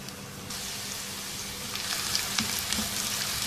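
Two medium finely chopped onions frying in about a quarter cup of oil in a pan for chicken boti masala, a steady close sizzle that swells louder partway through, with a few faint scrapes and no talking.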